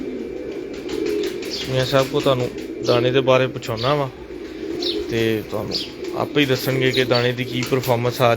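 Pigeons in a loft coo with soft, low, repeated calls, along with a few chirps. Someone talks steadily over them the whole time.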